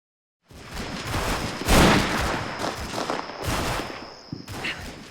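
Sustained gunfire in the Combat Mission: Fortress Italy war game: a dense fusillade of overlapping shots and bursts strikes an infantry platoon, loud and continuous for about five seconds with sharper peaks.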